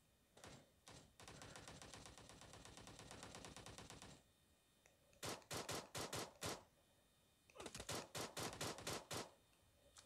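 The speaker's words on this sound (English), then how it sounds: "Oh, shooting." Automatic gunfire rattles in the mobile video game PUBG. A long, fast burst is followed by two groups of rapid, loud shots separated by short pauses. No one speaks.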